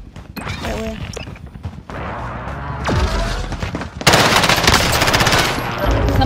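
Gunfire in the video game Call of Duty Modern Warfare: loud, dense bursts of automatic weapon fire and crashing impacts that build to sustained heavy shooting.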